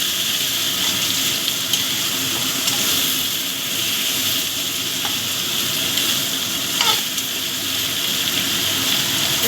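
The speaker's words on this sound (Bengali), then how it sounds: "দিয়ে দিলাম সব কিছু একসাথে ভালো করে ভেজে নেবো" Beans and radish frying together in a pan, a loud continuous sizzle with occasional stirring scrapes, close and steady throughout with no voices.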